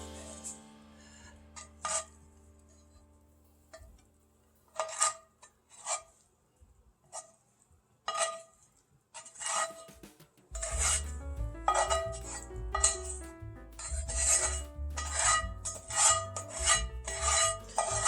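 Spoon scraping and rasping against a bowl as cooled sausage mixture with green onions and peppers is stirred into a breakfast casserole mix, sparse scrapes giving way to continuous rhythmic stirring with wet, heavier mixing in the second half.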